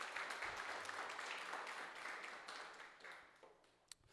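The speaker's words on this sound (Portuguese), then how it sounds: "Você pode aplaudir ao Senhor?" A church congregation applauding, a dense steady patter of many hands that sounds somewhat distant and gradually thins toward the end.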